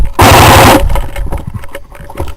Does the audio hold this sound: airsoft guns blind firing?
yes